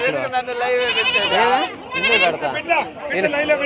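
Goats and billy goats bleat loudly and close by at the weekly livestock market in Gudur, with several overlapping wavering cries in quick succession and some voices among them.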